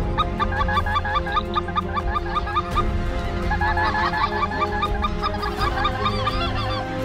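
A huge flock of geese in the Arkansas bayou honks continuously and densely, loud and near, with overlapping calls throughout.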